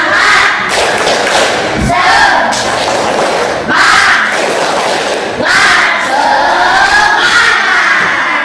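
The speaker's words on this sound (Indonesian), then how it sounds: "Yuk, 1, 2, 3, tepuk semangat." Classroom group doing a rhythmic spirit clap chant, loud bursts of voices shouting together with thumping claps, repeated in several waves with brief dips between them.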